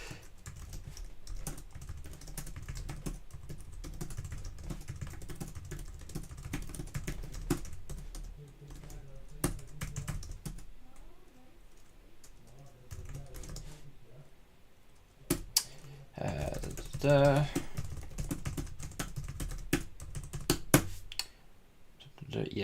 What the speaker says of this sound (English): You gotta see my ridiculous typing skill.